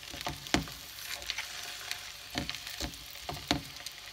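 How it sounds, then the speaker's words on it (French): Food frying in a pan while being turned over, a steady sizzle with intermittent scraping clicks of a utensil, close and fairly quiet, with no talking. "Et on laisse cuire tranquillement comme ça, tout en retournant."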